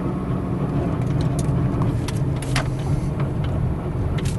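A Jeep Compass in limp mode after a flashing throttle light creeps slowly around town, giving a steady, even engine and road rumble heard from inside the vehicle.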